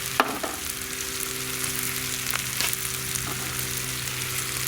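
Butter and oil sizzle steadily in a pan on a wood gas stove before kielbasa goes in, a faint continuous crackle with a few small pops and a low steady hum beneath.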